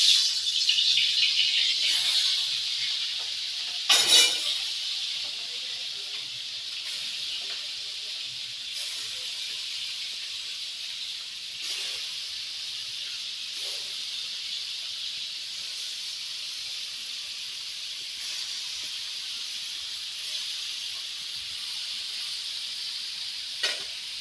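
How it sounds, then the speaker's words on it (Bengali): Prawns frying in hot oil in a home kitchen give off a steady, close sizzle and hiss that runs unbroken throughout, with a few sharper crackles and spatters, no talking. "চিংড়িগুলো ভাজা হোক"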